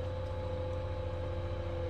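JCB backhoe loader engine running steadily during loading, a loud, even diesel drone with a constant low hum, close by and without voices.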